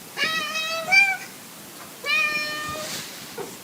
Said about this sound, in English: Now we come to the standard meow sound.